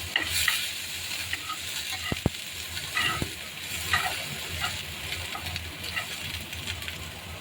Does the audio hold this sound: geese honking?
no